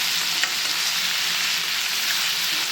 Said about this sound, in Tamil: மிளகாத்தூளும் போட்டு நல்லா வதக்கணும்.